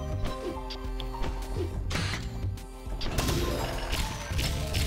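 Explosions burst in the steampunk mining game SteamWorld Dig 2, a series of crunchy blasts and crashing debris over a steady game soundtrack, with a louder cluster of impacts in the second half.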